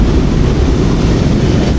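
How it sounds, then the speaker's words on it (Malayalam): A train arriving in Manila, a loud steady rumbling roar without distinct clatter, close by and alone with no voices. "ഇതേ നമ്മുടെ ട്രെയിൻ വരുന്നു"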